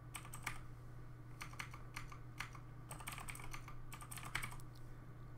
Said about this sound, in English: we'll type in our very secure password